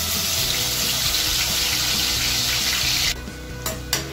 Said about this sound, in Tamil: பச்சை வாசம் போற அளவுக்கு நம்ம ஃப்ரை பண்ணிட்டே இருக்கணும்